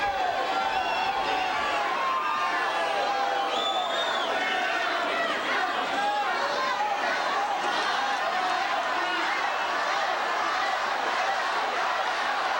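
At the 1993 San Diego tennis final, a large crowd keeps up a dense, loud murmur of disapproval over a line call, with scattered raised voices and whistles in the sustained hubbub.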